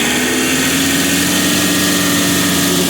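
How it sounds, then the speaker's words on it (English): A tractor engine drives a PTO-powered auger tiller, making a loud, dense, steady drone with a constant hum and no pauses or voices. "get tractor RPM up a certain speed, and I can ease that PTO back on and get the auger going again."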